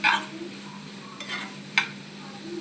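Dondakaya (ivy gourd) curry being stirred with oil powder in a pan, a few brief scraping strokes over a soft steady sizzle, one sharper scrape near the end.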